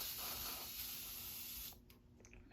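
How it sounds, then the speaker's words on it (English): A steady hiss of aerosol test smoke sprayed at a smoke detector runs for almost two seconds, then cuts off, leaving quiet room tone with a faint tap at the end. "I will now go up and spray my smoke detector with some fake smoke."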